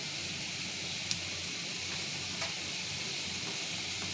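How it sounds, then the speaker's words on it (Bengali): Fried spice paste for a small-fish chorchori hisses and sizzles steadily after a splash of water goes into the pan, with a couple of faint clinks of a spoon and no voices. "মশলাটা ভাজা হয়ে গেছে, তাই অল্প করে পানি দিয়ে দিলাম।"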